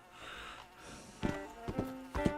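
A horse in the Red Dead Redemption 2 video game, with a breathy snort followed by three loud, close hoof clops or stamps spaced about half a second apart.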